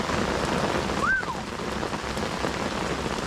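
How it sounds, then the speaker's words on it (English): Heavy rain pours steadily during a fishing session on a canal in a storm, a dense, constant hiss with no talk, and a single faint whistle-like sweep briefly rises over the downpour. "Is this as heavy as it's rained on the channel?"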